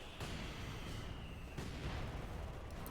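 Artillery bombardment in Company of Heroes 2, a World War II strategy game, near an objective point: continuous dense rumble of shelling with sharp impacts and booms landing around 0.2 s and 1.6 s.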